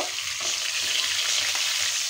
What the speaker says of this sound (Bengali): তো এটা আমি খুব ভালোভাবে ভেজে নিব।